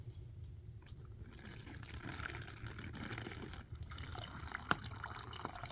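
Water dripping and trickling through a Sawyer water filter inside a hut during a snowstorm camping trip, a steady close patter of drips with a few sharper single drops standing out, no talking.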